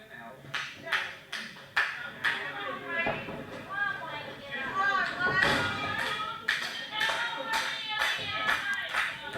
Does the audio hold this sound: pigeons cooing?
no